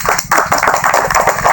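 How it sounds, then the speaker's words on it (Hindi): Audience members clap together in quick rhythmic bursts at a devotional religious gathering, loud and close, with brief dips between the beats. "ताली बजा"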